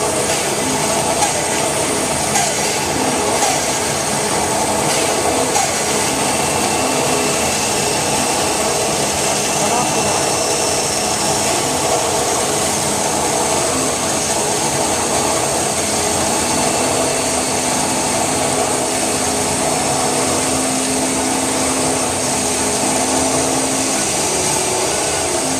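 A power sander grinds steadily over wood in a continuous, loud whirring drone that holds without a break for the whole stretch.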